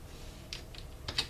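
A few quick keystrokes tapped out on a keyboard while entering numbers, faint clicks spaced irregularly over a low room hiss.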